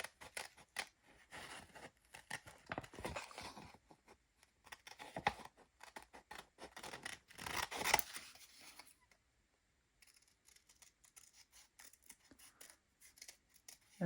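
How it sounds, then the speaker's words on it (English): Scissors cut paper for a mixed media art piece in quick, close snips. Dense crisp cutting strokes run through the first nine seconds, then sparser snips and paper rustles follow after a brief pause. "then you take your scissor, and then you cut the neatest way you can"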